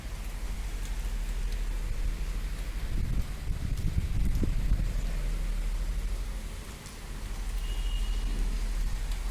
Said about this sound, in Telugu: మాకు ఈ వైపు నుంచి అయితే బాగా గాలి వచ్చేస్తుంది